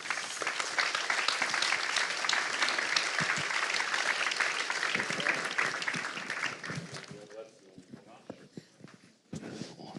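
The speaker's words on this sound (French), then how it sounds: "On peut vous applaudir, évidemment." A crowd applauds steadily and fairly loudly after a round-table panel on aerospace innovation, the clapping thinning out and fading near the end as a voice begins speaking.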